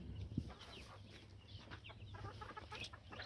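Chickens, including a red hen, cluck softly close by in a backyard coop, with a low background hum and a sharp bump near the start.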